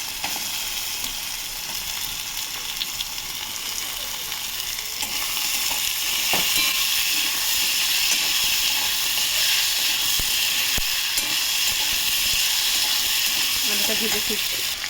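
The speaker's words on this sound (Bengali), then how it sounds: "আলুটা ভেজে ফিরছি।" Potato pieces fry in a pan with onion and garlic, a continuous bright sizzle that grows louder partway through, with occasional stirring clinks and a voice talking quietly underneath.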